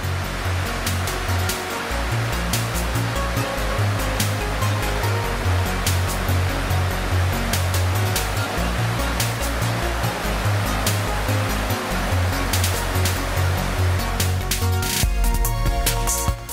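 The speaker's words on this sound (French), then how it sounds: "nous arrivons enfin au pied de cette chute de 52 mètres" A 52-metre waterfall in Slovenia roars loudly and continuously from close by, a dense unbroken rush of falling water with no voices.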